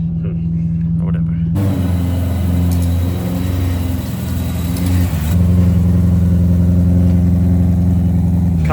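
A BMW M3 E90 engine cranks and catches after about a second and a half, then runs loud and close with a deep, steady rumble that swells slightly toward the end.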